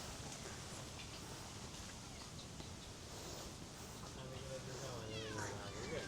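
On a mountain trail between Gwanggyosan and Baegunsan in Korea, a cat gives faint, rising meows in quiet outdoor air while people talk nearby.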